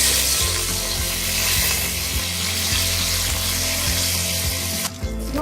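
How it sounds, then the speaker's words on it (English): Mustard seeds sputtering and popping in hot oil, a steady loud sizzle with rhythmic crackles and pops throughout, close up and without voices. "Allow mustard seeds to splutter"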